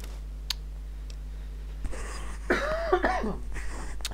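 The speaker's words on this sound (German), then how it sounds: "Entschuldigung, ich musste mal kurz husten." A person coughs once, close to the microphone, during a German let's-play session of the video game Fallout 3. A small click is heard beforehand and faint room hiss runs underneath.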